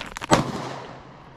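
A single sharp AK-47 rifle shot cracks at an outdoor shooting range, preceded by a couple of quick softer clicks and followed by a short echoing decay.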